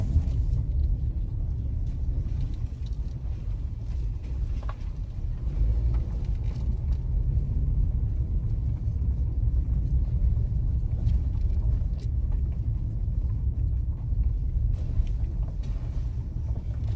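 A car rolls along Monterey Drive in Patrick City, St. Andrew, Jamaica, making a steady low engine and road rumble that stays even throughout with no talking.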